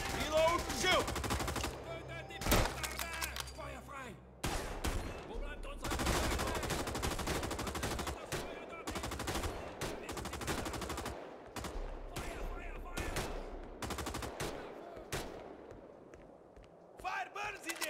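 Heavy machine-gun and rifle fire rattles in the World War II shooter RAID: World War II, sustained bursts and single shots in a chaotic firefight, loud throughout with shouting voices over it.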